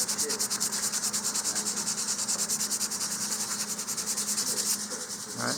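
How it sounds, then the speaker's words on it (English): A model rocket, an Estes Crossfire ISX, is lightly sanded with fine sandpaper over sanding sealer, a steady close rasping rub in quick, even back-and-forth strokes. "just go through and lightly sand these again"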